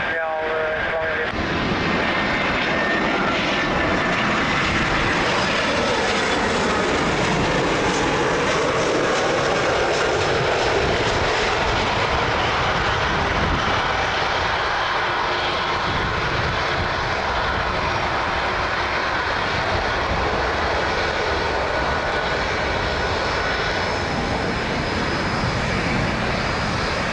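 An airliner on approach to land at Lisbon Airport on runway 02 roars loudly and steadily, a broad jet engine rumble holding for the whole stretch while a radio voice talks over it.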